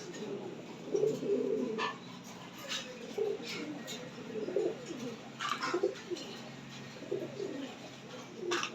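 Cooing from a male fantail pigeon near a female in a loft, soft low repeated coos in uneven bursts at moderate distance, with faint chirps and light background noise.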